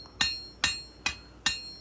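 Four evenly spaced hammer blows ring out on an anvil while steel knife blade bevels are forged, each strike a sharp, close metallic clang with a brief ringing decay and no talking.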